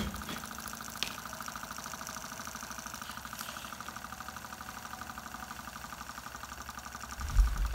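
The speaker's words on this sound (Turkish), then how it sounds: "Isı kaynağını aldığımız zaman motorumuz çalışmaya devam ediyor." A homemade Stirling engine keeps running after its heat source is removed, giving a quiet, steady mechanical knocking and whirring that repeats evenly, with one sharp click early on and a louder bump near the end.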